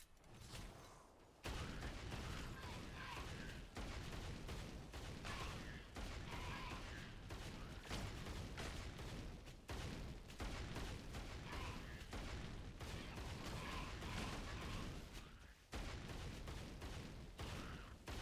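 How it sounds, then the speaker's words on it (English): Dense, continuous barrage of explosions and spell blasts in the action RPG Torchlight, loud and near, with overlapping booms and crackles sustained almost without pause. "Explosions everywhere."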